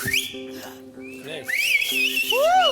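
A few clear whistles rise and glide over a steady background with some low tonal sounds, ending in a louder swooping whistle.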